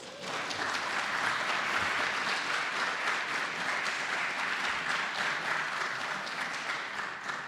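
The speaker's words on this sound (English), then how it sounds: "So a huge round of applause for that, please." A convention audience at Fantasticon 2016 gives a steady, dense round of applause that holds evenly for several seconds, heard alone at moderate distance.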